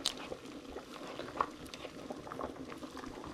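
Pasta boiling in a pot of water while being stirred, a steady close bubbling and burbling with soft liquid pops and occasional spoon sloshes.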